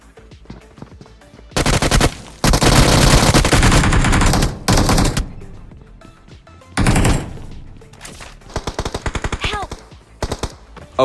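Loud bursts of automatic gunfire in the mobile battle-royale game BGMI (PUBG Mobile), several long volleys and shorter rapid strings of shots separated by brief pauses, heard alone without talk.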